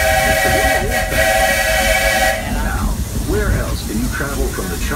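The Walt Disney World Railroad steam locomotive at Magic Kingdom sounds a loud, sustained steam whistle for about two seconds, then hisses and rumbles nearby while a voice talks over it.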